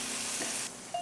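Tenderloin beef pieces for a stroganoff, unseasoned, sizzle steadily in a hot pan with a bright, dense hiss that holds for about a second, ending in a short electronic tone.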